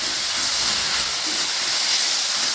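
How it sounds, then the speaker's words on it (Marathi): Tomatoes and onions frying in a pan for egg bhurji, heard as a loud, even, close hiss that continues without a break. "टोमॅटोला 1-2 मिनिटं आपल्याला कांद्यातच भाजून घ्यायचं।"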